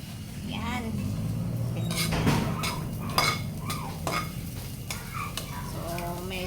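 Ginger sautés in a pan for pinikpikan, giving a steady sizzle with frequent scraping and clinking of a utensil against the pan as it is stirred, while a voice speaks intermittently.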